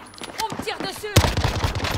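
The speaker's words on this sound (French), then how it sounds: "On me tire dessus." Gunfire in the video game Warzone: a sharp burst of rapid shots erupts partway through, loud and dense after a quieter stretch of game sounds.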